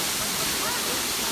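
Mino waterfall in Japan roars as a dense, continuous rush of falling water, loud and steady throughout with no pauses.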